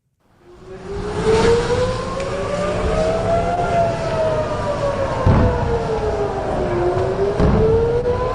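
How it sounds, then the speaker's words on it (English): Air raid sirens in Israel during an Iranian missile attack wail, rising and falling steadily, loud and sustained, with a second tone overlapping and a low rumble of traffic beneath. "Sirens sounding in Israel earlier as Iran launched dozens of missiles into the country."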